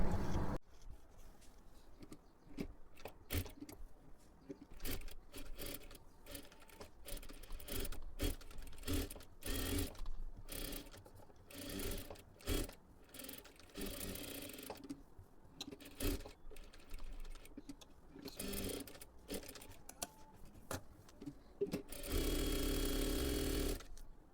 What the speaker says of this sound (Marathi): इथे सुद्धा खालच्या बाजूला पूर्ण शिलाई मारून घ्यायची आहे